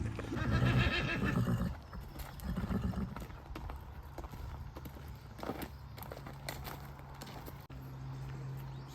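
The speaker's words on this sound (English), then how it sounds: "I'm going to bring a horse up here" A horse at a saddlery neighs loudly and close at the start, then its hooves clip-clop in uneven steps that fade to quieter background shuffling.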